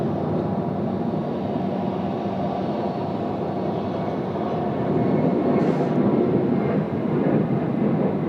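A Qantas Boeing 737 airliner departs Sydney Airport bound for Adelaide, giving a steady, broad jet roar that swells slightly toward the end, heard from a distance with no speech.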